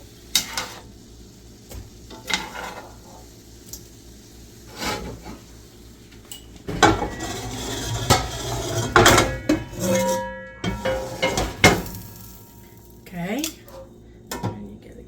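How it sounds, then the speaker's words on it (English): Food going into a crock pot, with pots and utensils clattering in scattered knocks and scrapes that turn busier and louder midway, along with occasional talking. "And then we're just going to put it in the crock pot."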